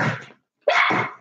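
Dog at home giving two short, loud barks close by, separated by a brief silence.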